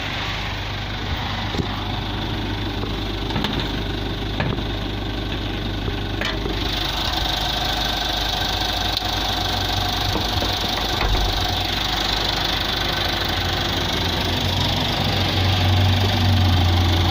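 A Mitsubishi Challenger's 4D56 2.5-litre turbo diesel idles steadily with the bonnet up, a close, even low rumble and knock that holds unchanged throughout with no talk.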